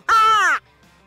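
A human voice imitates a crow's alarm call: one loud, harsh caw lasting about half a second, delivered flat without vibration and heard alone.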